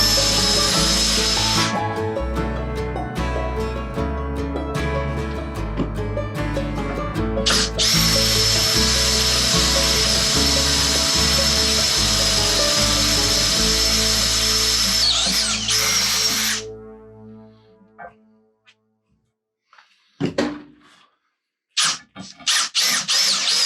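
Power drill with a freshly sharpened bit boring holes, likely into metal on a 5075E tractor, running loud and steady for about sixteen seconds in bursts, then stopping and leaving near silence with a few faint knocks and handling sounds.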